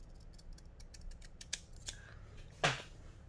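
Scissors cut paper for a card envelope, close and quiet, with a run of small rhythmic snips building to a few sharper, louder cuts, ending in one crisp final snip.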